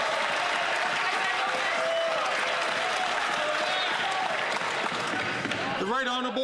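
Members of the House of Commons burst into loud, sustained applause in the chamber, with crowd voices mixed in before it fades and a single voice begins speaking at the end.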